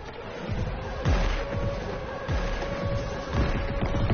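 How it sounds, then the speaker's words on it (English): Repeated booming cannon shots, about four heavy blasts spaced roughly a second apart, with a rumbling, slightly tinny game-audio quality and no talking. "how does this kid have a cannon?"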